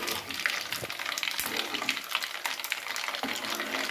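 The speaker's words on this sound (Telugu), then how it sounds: "ఇవి ఆవాలు, జీరా అండ్ ఎండుమిర్చి గింజలు మంచిగా ఫ్రై అయిన తర్వాత" Mustard seeds, cumin and dried chilli seeds fry in hot oil, a continuous crackling sizzle with scattered popping ticks and scraping, close and moderately loud, with no voices.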